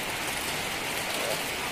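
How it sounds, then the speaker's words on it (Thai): Rain pours down steadily around a coffee shop at an elephant camp in Chiang Mai, a dense, even hiss of drops on surfaces filling the whole moment. "ฝนตกแล้วนะคะ"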